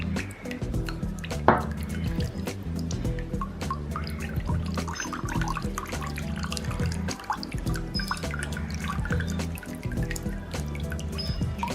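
Water from a ground spice paste is strained into pani puri water. It drips and trickles softly and irregularly under steady background music.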